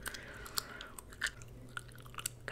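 Gum chewing close to the mic in an ASMR session, with soft, irregular wet smacks and clicks scattered over roughly two and a half seconds, no voice.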